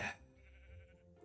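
Sheep bleat in a blocky survival-crafting video game, a single short bleat up front followed by a softer, drawn-out call, fairly quiet with no talk over it.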